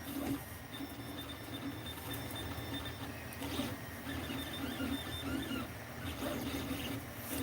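A 3D printer printing a Benchy hums and whirs steadily, with stepper motors whining in short shifting tones, heard at moderate distance and fairly quiet throughout.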